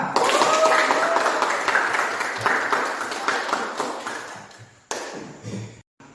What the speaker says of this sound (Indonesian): silakan tepuk tangan untuk semua